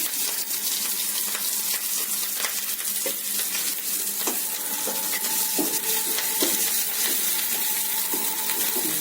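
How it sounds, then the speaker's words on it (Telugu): Chopped onions and green chilies sizzle and fry in hot oil over tempering steadily, a constant crackling hiss with occasional clinks of a utensil stirring the pan. "తాలింపు వేగింది దాంట్లోకి మనం ఉల్లిపాయ పచ్చిమిరపకాయ తరుగు వేసి"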